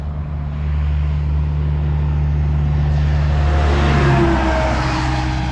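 A farm truck pulls up to a gate, its engine a steady low rumble close by that swells louder midway as it arrives, with no voices over it.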